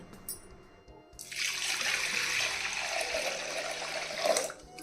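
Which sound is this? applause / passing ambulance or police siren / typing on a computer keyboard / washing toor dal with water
washing toor dal with water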